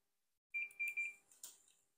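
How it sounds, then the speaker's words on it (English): A Fluke 117 multimeter set to continuity, tested across a fuse holder, gives a few short, high, close beeps in quick succession against near silence. "function set to continuity beep"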